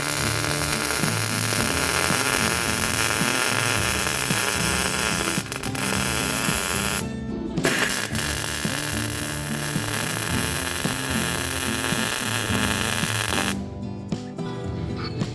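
A welder lays beads on a broken SuperATV control arm for an ATV or side-by-side. It gives a loud, continuous crackling hiss that stops twice for short pauses and then resumes.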